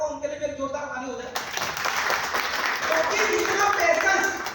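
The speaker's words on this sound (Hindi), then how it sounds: "मैं चाहूंगा उनके लिए भी एक जोरदार ताली हो जाए" A crowd at a business success event applauds a man in a large, sustained burst of clapping that starts abruptly after a voice and carries on steadily to the end.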